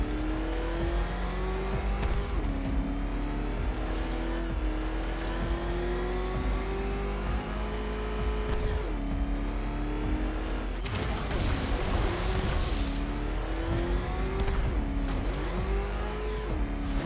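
A car engine in Batman: Arkham Knight revs hard and steadily while driving, its pitch climbing and dropping through repeated gear changes, with a brief burst of boost noise midway; loud and continuous, no talking.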